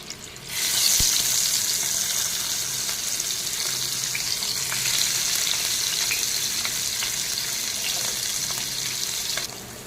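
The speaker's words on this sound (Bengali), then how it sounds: "এখন আমার তেলটা গরম হয়ে গেছে, আমি মাছটা দিয়ে দেবো।" Fish dropped into hot oil in a home kitchen sizzles and crackles loudly, a steady close-up frying hiss that holds for the full stretch and then cuts off.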